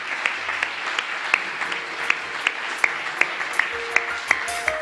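An audience at an evening recognition reception applauds winners, students and alumni, a fairly distant wash of clapping with individual sharp claps standing out at an uneven, steady pace.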